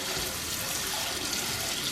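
Water sloshes and splashes steadily in a mixing bowl as a peeled potato is set into it for mashed potatoes, a close, continuous watery wash with no talk over it.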